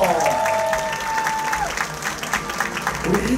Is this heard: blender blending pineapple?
no